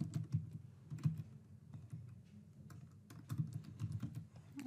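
Close computer keyboard typing: bursts of quick, light key clicks with short pauses between words, alone at a moderate level.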